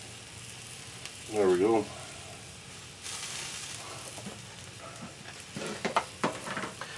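Chopped onion and jalapeno dropped into hot fat for smoked chicken tacos, a soft steady sizzle with stirring scrapes and clatter toward the end, while a person speaks briefly.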